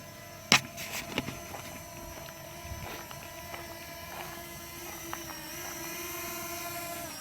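A Fimi X8 Mini drone hums steadily with a high motor whine as it is brought down, its pitch shifting slightly, with a few sharp clicks near the start and no talking.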